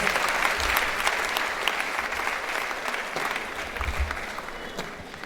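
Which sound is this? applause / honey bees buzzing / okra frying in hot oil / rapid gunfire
applause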